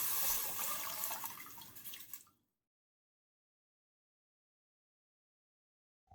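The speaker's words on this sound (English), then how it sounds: "Now, pour in 2 liters of water and bring it up to a boil." Water pours steadily into a cooking pot for a kuah lodeh broth, a fairly loud splashing rush that stops abruptly after about two seconds, leaving silence apart from a faint knock at the end.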